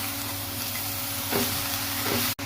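Fried potatoes, eggplant and bathua greens are stirred in a pan. A steady close sizzle is broken by scraping stir strokes, then a sharp knock at the end.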